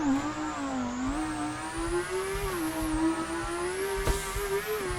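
A Lamborghini Huracan races in the Car Dealer game, its engine holding a steady, smooth high whine that rises and dips slightly with the throttle, continuous and close throughout.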